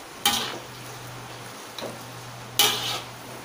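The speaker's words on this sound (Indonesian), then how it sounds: "Kita aduk dulu." Shrimp capcay vegetables being stirred in a pan: three brief scraping, sizzling strokes separated by quiet pauses over a low steady hum.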